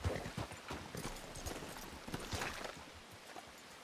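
Horse hooves clip-clopping on the ground in the RedM roleplay game, a steady rapid walking rhythm that gradually fades as the horse moves away, with no voices over it.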